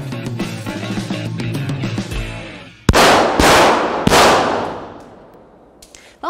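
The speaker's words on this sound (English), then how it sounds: "this is a hot range, so when you walk in, you should expect people to be shooting" Gunfire at an indoor shooting range: a few loud, sharp shots crack and echo through the room, the first ones laid over a music bed.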